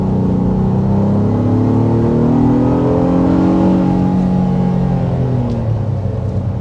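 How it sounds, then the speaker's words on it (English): A 2024 Honda Passport's V6 engine pulls hard out of a corner, a steady, loud low rumble with rising harmonic tones building through the acceleration, heard alone without talk. "As I accelerate out of that corner"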